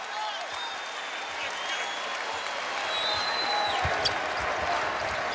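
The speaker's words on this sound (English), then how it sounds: "The crowd here comes to their feet, appreciating the effort here in this first half." Spectators at a Marquette at Creighton college basketball game rise and applaud near the end of the first half, giving a broad, sustained wash of clapping and crowd noise with faint whistles and chatter.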